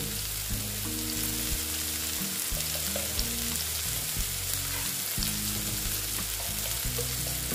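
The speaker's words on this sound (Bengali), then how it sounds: "এখন আমি এখানে দিয়ে দিচ্ছি অল্প জিরের গুঁড়ো" Cumin powder hits hot oil in a frying pan, setting off a steady, loud sizzle that runs unbroken, with faint scraping of a stirring utensil and no voices.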